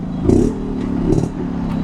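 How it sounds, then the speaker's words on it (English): A Jawa or Yezdi single-cylinder motorcycle runs with a throbbing exhaust note, rising in two short revving bursts over a steady low rumble, close and fairly loud. "this beautiful exhaust note and the way it pulls, being a single cylinder, sounding so beautiful"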